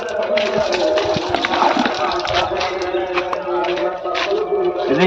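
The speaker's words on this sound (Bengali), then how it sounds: "উপর দিক দিয়ে পানিটা মারবেন বেশি" Water sprays steadily over a CNG auto-rickshaw during washing, a continuous hissing gush with splashing that persists throughout under a voice speaking nearby.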